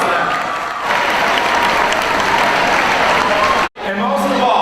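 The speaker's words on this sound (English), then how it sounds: "Let's give a big round of applause to them." Loud, sustained applause from a crowd at a high school homecoming assembly fills the room, with a brief sudden dropout near the end before clapping resumes alongside a faint hum.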